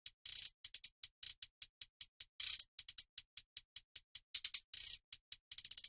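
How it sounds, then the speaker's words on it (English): Crisp, dry hi-hat pattern in a dark trap beat made in FL Studio, steady ticks broken by quick stuttering rolls, playing alone with no voice. "this is what the hi-hats sound like"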